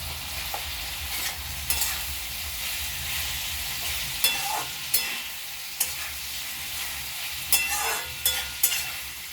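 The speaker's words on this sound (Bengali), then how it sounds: "পনিরটাকে দিয়ে এটা একটু ঘেটে নেব" Mixed vegetables and paneer being stirred in a hot pan: a continuous sizzle broken by repeated sharp clinks and scrapes of the utensil against the pan, close by and with no speech.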